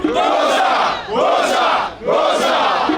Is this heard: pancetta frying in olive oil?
no